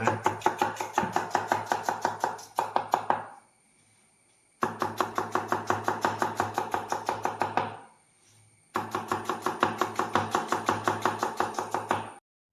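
Knife chopping onions on a board in a home kitchen while making a simple biryani: steady rapid knocks in two long bursts, with a short pause between them, close and fairly loud, no talk.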